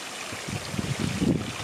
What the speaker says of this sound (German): An einem kleinen Bach, Gebirgsbach.